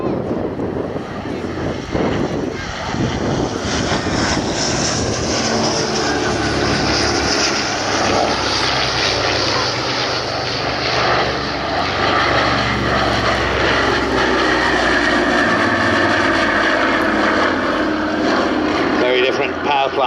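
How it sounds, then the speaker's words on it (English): A de Havilland Dragon Rapide biplane with twin 200 horsepower Gipsy Six engines flies a display at Shuttleworth, its propeller drone loud and sustained throughout, rising and shifting in pitch as it passes, with wind buffeting the microphone. "Lead aircraft there, Dragon Rapide, powered by a pair of 200 horsepower Gypsy 6s."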